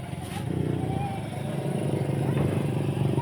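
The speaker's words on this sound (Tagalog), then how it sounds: "dahil maraming motor" Motorcycle engines rumble nearby and pass by on a provincial street, rising and falling in loudness over a steady background of traffic noise.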